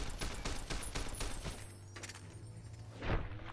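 Gunfire in the video game Fallout New Vegas, a rapid string of faint shots that thins out, followed by a single heavier thump near the end, with no voices.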